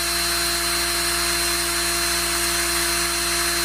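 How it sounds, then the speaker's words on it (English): A power drill whines steadily and loudly as it bores a quarter-inch hole straight down into a wooden walking stick, one continuous even tone throughout. "And I'll drill a hole, quarter inch hole, as straight as possible, right straight down into that stick."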